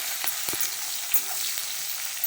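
Chopped onions fry in hot oil until reddish-brown, giving a steady, close hiss of sizzling with a few light clicks of stirring and no talk.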